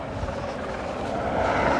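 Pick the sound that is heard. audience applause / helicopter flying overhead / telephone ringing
helicopter flying overhead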